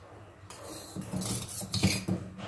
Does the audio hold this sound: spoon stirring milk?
yes